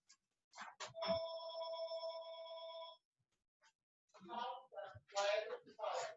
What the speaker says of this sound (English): My phone is ringing. I need to turn that off.